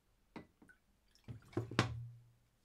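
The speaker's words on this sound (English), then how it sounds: "And if I pour a glass here quickly" Coca-Cola poured quickly into a glass for an acidity test, heard as a few soft splashes and drips building into a brief fizzing pour that fades away, close and fairly quiet.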